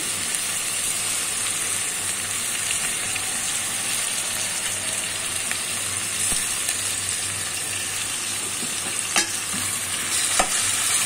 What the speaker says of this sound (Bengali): এখন আমি চিংড়ি মাছটা দিয়ে নেব।